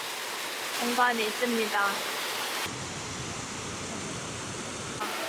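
An artificial waterfall flows in a botanical garden greenhouse at the National Sejong Arboretum, giving a steady rushing hiss nearby. A person speaks over the first half before the water carries on alone.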